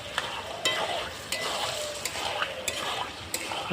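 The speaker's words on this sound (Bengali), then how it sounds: "এই মাশরুম যত কষানো হবে ততই খেতে ভালো লাগবে দেখুন আমি কীভাবে কষাচ্ছি" Mushrooms stir-fried in a pan for a Bengali mushroom masala, with a steady close sizzle and repeated scraping strokes of a spatula against the metal, no voices.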